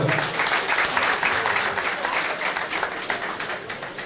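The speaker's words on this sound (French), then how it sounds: "Applaudissez pour cela très fort" Loud applause rises from the crowd at the inauguration ceremony of a new UFDG party headquarters in Luanda, a dense wash of clapping that stays strong throughout and eases slightly toward the end.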